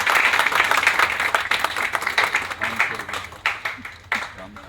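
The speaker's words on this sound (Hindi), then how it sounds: "और एक बार इन कलाकारों के लिए जोरदार तालियां जो अपने गीत करा रहे हैं।" Audience applause for stage performers at a corporate Janmashtami play, a busy patter of many hands clapping that gradually loosens into scattered, uneven claps as it dies down.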